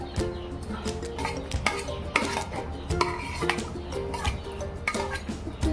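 Fried potatoes tumble into a pan of jackfruit curry, with clinks and scraping of a spoon against the pan and soft sizzling, steady and close with no talking.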